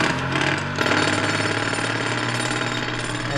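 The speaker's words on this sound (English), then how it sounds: "Can I have the jackhammer, please?" A jackhammer pounds away loud and close, its rapid hammering held steady and unbroken for a few seconds with no voices over it.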